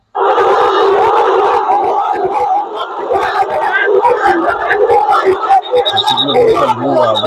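A large outdoor crowd of protesters chants slogans loudly and close, many voices shouting in unison and overlapping in a rough rhythmic roar that lasts until the end, when one voice cuts in.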